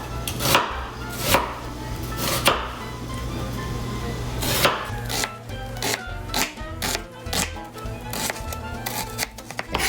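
Knife chopping an onion on a cutting board while cooking pasta bolognese: sharp, separate cuts that come irregularly and sit close and fairly loud over a low steady hum in the room.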